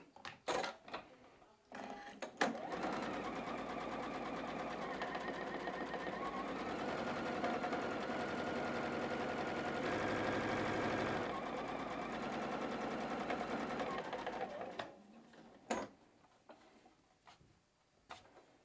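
A sewing machine stitches quilt seams with a quarter-inch seam allowance, running as a steady close mechanical whir for about twelve seconds before stopping. Short clicks and handling taps come just before and after the run, with no voices.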